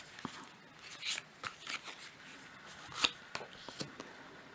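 Tarot cards being handled, shuffled and drawn in a quiet room, with sharp scattered flicks and papery snaps at irregular intervals, close and moderately soft.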